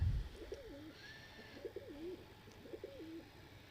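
A pigeon coos three times in a slow, evenly spaced rhythm, soft and close against a quiet background.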